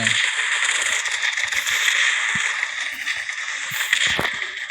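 Bomb explosions in the mobile strategy game GUNS UP Mobile, a busy run of short crackling blasts and thuds layered over continuous game sound effects, with no voices.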